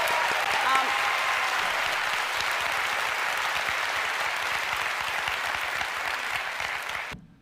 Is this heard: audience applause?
yes